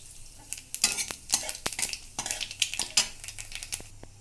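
Dried red chilli and nigella seeds splutter in hot oil, bursts of sharp crackling mixed with repeated metallic clinks and stirring against the pan, fairly close.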